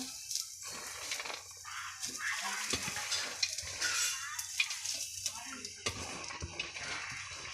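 Spatula stirring and clinking against a frying pan while greens cook for a spinach thoran, with bursts of sizzling and scraping in an irregular rhythm and quiet talk in the background.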